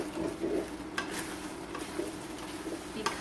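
Shepherd's pie filling stirred in a hot pan, a steady low sizzle with a few scraping spoon strokes and sharp clicks against the pan, close and moderately loud.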